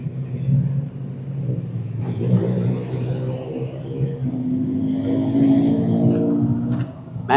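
A couple of 86 sports cars roll into a Cars and Coffee meet at Dulles Landing, their engines a steady nearby rumble that swells and revs slightly as they pull in, holding throughout.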